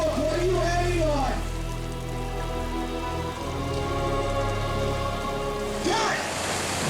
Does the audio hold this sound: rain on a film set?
yes